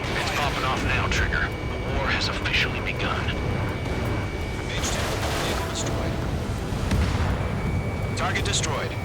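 A vehicle being destroyed in an Ace Combat 7 battle sets off explosions and heavy blasts layered with jet aircraft noise and radio chatter, loud and continuous throughout.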